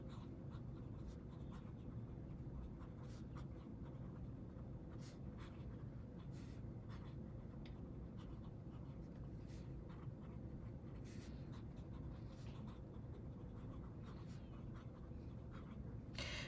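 Nib of a TWSBI fountain pen scratching across paper with rose gold shimmer ink, soft irregular strokes continuing steadily over a low constant background hum, close and quiet.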